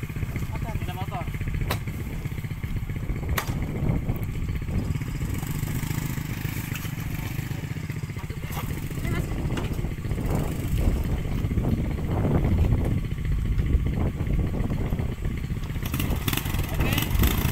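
Motorcycle engine droning steadily while riding between Karumpa Barat and Karumpa Timur, a continuous mid-pitched hum with rattling and wind, close and loud, with people talking over it.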